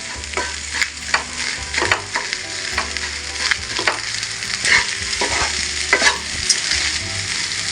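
Leftover cooked rice stirred in a hot oiled pan, a steady sizzle punctuated by repeated scraping strokes of a spatula against the pan, close and without talk.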